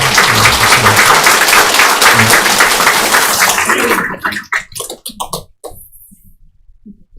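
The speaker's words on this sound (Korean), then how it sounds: "우리 일어나시면 큰 박수로 환영하도록 하겠습니다." A church congregation breaks into loud, dense applause that holds steady for about four seconds, then thins into scattered individual claps that trail off toward silence.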